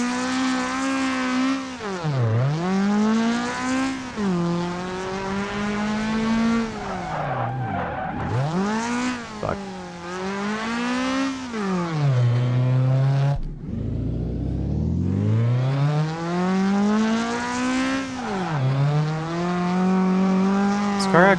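Racing video game car engine revving up and down with repeated tire squeals through corners, loud and continuous over about twenty seconds with no talk.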